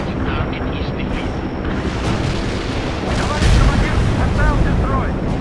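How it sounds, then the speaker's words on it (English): Air strike payload explosions in the war strategy game World in Conflict, a heavy rumbling barrage of booms that swells louder midway, with radio-style voices speaking over it. "We are dropping our payload. Stay clear."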